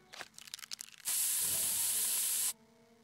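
Pepper spray in South Park: The Stick of Truth lets out one loud, steady hiss for about a second and a half. It follows a few short, clattering sounds and cuts off sharply.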